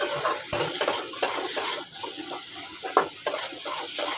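Boiled taro stir-fries in a pan with a steady sizzle, while a utensil scrapes and clinks against the metal in repeated, uneven strokes close by.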